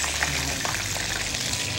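Steady sizzling and crackling of potatoes frying in hot oil, a continuous hiss with faint bubbling throughout.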